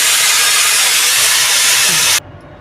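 A pressure cooker whistle blasts steam in a loud, continuous hiss for about two seconds, then cuts off sharply to a faint residual hiss.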